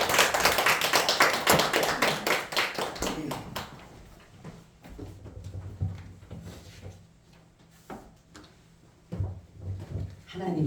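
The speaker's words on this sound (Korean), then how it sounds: "52주 동안 정말 수고 많이 하셨다고 우리 목사님 나오실 때 박수로 우리의 성의를 표하겠습니다" Church congregation at a Sunday morning service claps loudly for the pastor, a dense burst of applause that fades after a few seconds into scattered claps, shuffling and murmuring voices.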